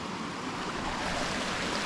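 Continuous broadband rush of a river flowing near a maize farm in a village, steady and fairly close, with some wind mixed in and no voices.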